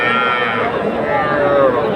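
Young bulls and heifers at a Saturday cattle market in Barguna, Bangladesh, low in drawn-out, wavering moos close by, over a dense bed of crowd murmur.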